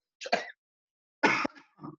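Two short bursts of coughing, close to the mic, with a brief pause between them and a softer throat sound trailing at the end.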